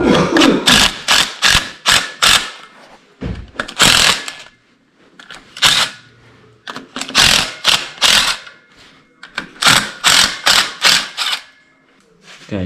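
Hand ratchet loosening pressure plate bolts on a Farmall C tractor clutch, sharp close clicking in quick bursts of several strokes separated by short pauses, repeated through the whole stretch.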